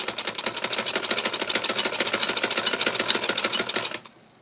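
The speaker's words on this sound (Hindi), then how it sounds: "अब इस तरह से नॉर्मली हम स्टिच करते हुए आएंगे।" A sewing machine stitches a garment collar with a rapid, even mechanical chatter, close and loud, running without a break for about four seconds before it stops abruptly.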